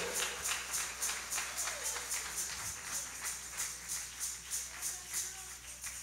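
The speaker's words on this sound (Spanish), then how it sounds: "Dale un aplauso al Rey." Church congregation clapping in steady, rhythmic unison during a Spanish-language service, with regular beats throughout and a faint voice underneath.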